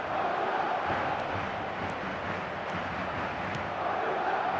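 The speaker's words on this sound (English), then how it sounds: "the crowd are reacting to that now" Football stadium crowd, with Madrid pressing for a goal, roars steadily in a broad continuous wash, moderately loud with no clear individual voices.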